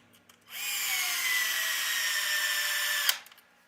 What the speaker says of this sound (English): Those drills are handy, but it's also a good way to strip stuff out.